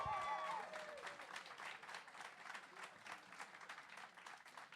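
An audience at a comedy club applauds after a stand-up act, a dense, steady wash of many hands clapping that lasts several seconds at moderate distance, with a brief whistle or cheer at the start.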